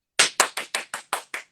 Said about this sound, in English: Wow, clapping.